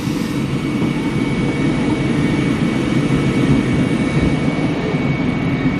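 A Kam Air airliner's jet engine drones on the tarmac in Afghanistan, a loud, steady low roar with a faint high whine held throughout, with no voices.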